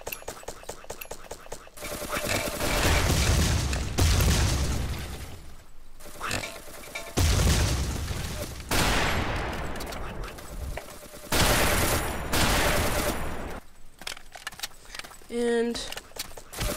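Heavy oversized guns from a mod exploit in the blocky shooter Build and Shoot, loud sustained firing and blasts in long bursts separated by short pauses, with someone talking over parts of it.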